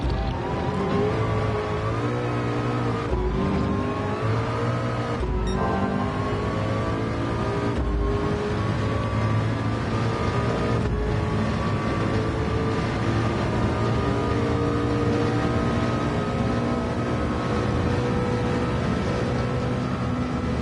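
A McLaren race car engine drones at high, steady revs down the Mulsanne Straight at Le Mans in a VR racing game, with a few brief gear-change dips and a continuous whining tone throughout.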